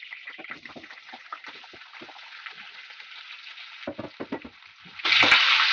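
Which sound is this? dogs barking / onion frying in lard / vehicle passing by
onion frying in lard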